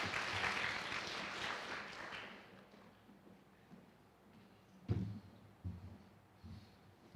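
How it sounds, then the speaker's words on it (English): Audience applause for presenters at a Three Minute Thesis competition, a fairly loud burst of clapping that fades out within about three seconds, leaving quiet room sound with a few soft bumps. "So round of applause for you guys."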